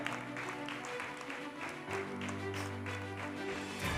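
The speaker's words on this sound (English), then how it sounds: "Keep the applause going, people." Faint audience applause at a university convocation award, a dense patter of clapping, mixed with sustained music tones in the background.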